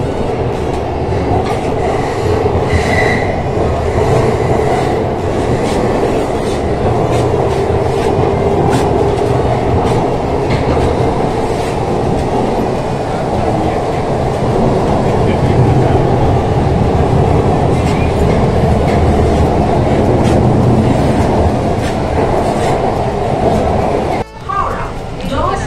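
A Kolkata Green Line underwater metro train runs between stations near Howrah, giving a loud, continuous rumble with rhythmic wheel clatter and occasional squeals, while a recorded platform announcement speaks over the noise.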